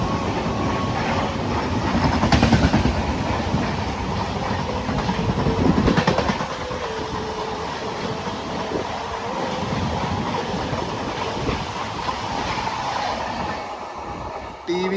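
The Nagercoil-Kottayam Express rolls along the rails with a loud, continuous rumble and rattle heard from inside the train. Faint rhythmic clatter and steady wind-like rushing run throughout.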